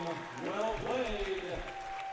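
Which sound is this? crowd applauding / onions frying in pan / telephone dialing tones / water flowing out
crowd applauding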